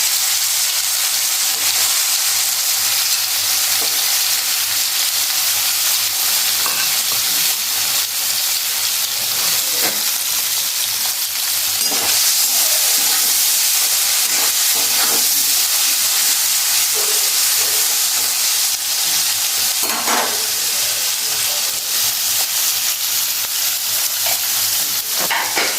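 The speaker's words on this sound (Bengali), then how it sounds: "কড়াই তেল গরম হয়ে গেছে, পনিরগুলো আমি ভেজে নেব।" Paneer pieces frying in hot oil in a kadai, a steady, dense sizzle and hiss with occasional stirring clinks, close and continuous throughout with no talking.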